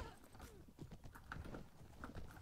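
Horse hooves clatter in a mounted video game battle, repeated clip-clop beats at moderate level amid busy combat noise and faint voices.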